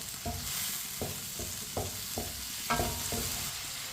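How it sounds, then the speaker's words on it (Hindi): Tomatoes and green chili sizzle in a pan while a spoon stirs them, giving a steady frying hiss with several soft scraping taps at irregular intervals. "टमाटर और सब्ज मिर्च को मिक्स करके इसे 2 मिनट के लिए पका लेंगे। इसी तरह इसे चम्मच चलाते हुए पकाना है।"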